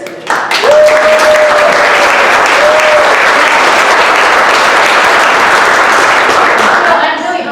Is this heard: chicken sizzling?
no